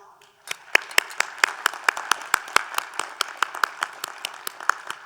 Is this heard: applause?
yes